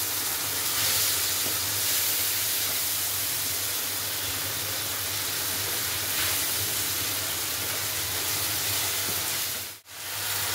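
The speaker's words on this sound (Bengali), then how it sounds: "এবার এই মশলাটাকে ভালো করে কষে নেব।" Ginger-garlic masala with ground spices being fried in a pan for a mutton curry, a steady loud hiss and sizzle throughout, briefly cut off near the end.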